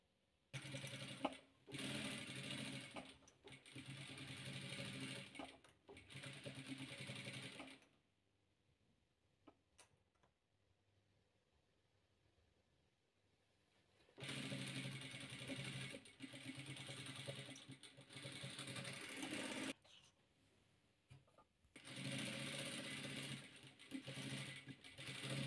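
A sewing machine stitches patchwork squares in three bursts of rapid, even mechanical ticking, each several seconds long, separated by near-silent pauses, close and clear with no talking.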